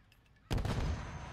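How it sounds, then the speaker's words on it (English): Burst of gunfire in a Call of Duty Search and Destroy match, shots coming through a wall: a sudden loud rattle of rapid shots starting partway in and sustained to the end, with a final sharp crack. "Oh, I'm just getting wall banged."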